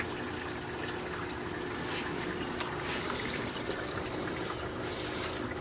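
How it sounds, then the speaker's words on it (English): Water trickles steadily in a home fish tank, a constant close bubbling wash that runs unbroken from start to finish at an even level. "I don't like the sound of a fish tank."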